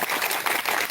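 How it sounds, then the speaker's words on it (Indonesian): Audience applause at an Islamic award ceremony in Morowali Utara honouring inspirational preachers, a dense, steady wash of many hands clapping for just under a second, fairly loud and close with no voices over it. "Tepuk tangan semuanya."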